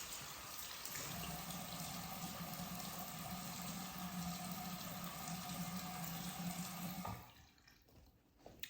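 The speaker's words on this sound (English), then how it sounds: "I rinse off my face with cold water" Cold tap water runs steadily into a sink while a face is rinsed, a constant close hiss with no talking, cutting off abruptly near the end.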